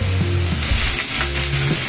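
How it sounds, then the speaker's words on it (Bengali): Potatoes frying in a home kitchen pan give a loud, continuous close sizzle with occasional stirring, no voices over it. "এখানে দেখো আলু ভাজা হচ্ছে"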